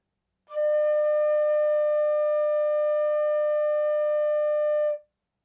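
A single flute note, D, sounded by a beginner: one steady, clean sustained tone with clear overtones, held alone for about four and a half seconds with no talking.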